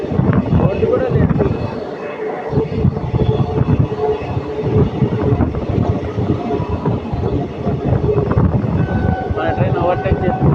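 Passenger train on the Chennai to Hyderabad run, heard from on board as the Hyderabad Express overtakes it: a steady, loud rumble of wheels and carriages over rails with rhythmic clatter, and voices talking over the noise.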